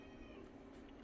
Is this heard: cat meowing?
yes